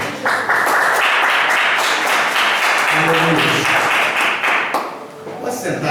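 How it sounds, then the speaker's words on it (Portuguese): A congregation applauds in church during an evening service, with sustained dense clapping filling the space, fading slightly near the end while a voice speaks over it. "Vamos aplaudir a palavra do Senhor?"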